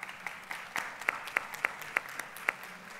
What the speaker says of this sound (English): can we give them please a round of applause?